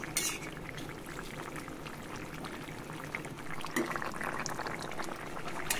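A thin Bengali bata fish curry with drumstick pods and potatoes bubbling in a pot, steady soft boiling and sizzling with occasional clinks, close and fairly quiet.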